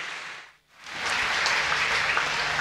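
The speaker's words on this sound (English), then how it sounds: "Ladies and gentlemen, round of applause, Roberto Pavoni." Crowd applause at a swimming championships finals session for swimmer Roberto Pavoni rises quickly after a brief silence, then holds as a steady, dense wash of clapping.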